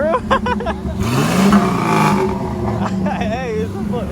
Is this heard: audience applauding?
no